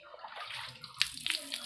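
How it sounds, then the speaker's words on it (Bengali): Water runs and splashes steadily close by as Holi colour is washed out of hair, with a couple of brighter splashes partway through. "দেখো কত কালারফুল জল বেরোচ্ছে দেখতে পাচ্ছ তোমরা।"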